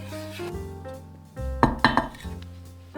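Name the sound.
stirring water and salt in a pot for choux pastry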